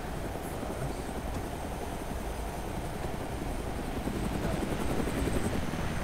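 A helicopter in Arma 2 Wasteland flies with a loud, steady, close rotor and engine roar that grows slightly louder toward the end, with no talk.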